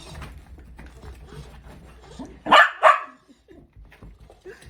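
Two loud, sharp barks from excited dogs reacting to a silly toy cut in after a stretch of quieter shuffling and faint vocal noise, followed by soft rustling.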